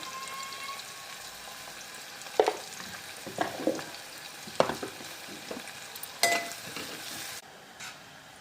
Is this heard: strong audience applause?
no